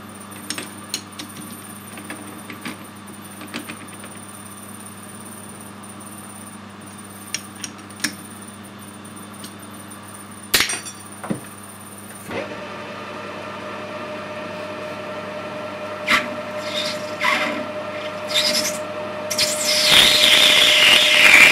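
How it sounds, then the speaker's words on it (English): A new, narrower parting tool cuts a brass bar on a lathe, starting as a quiet motor hum with faint ticks and swelling midway into a steady louder whine and scraping that grows rougher toward the end. "I'm going to use the new parting tool of your givers because it's a little bit narrower than the Vanguard one, just to save on material."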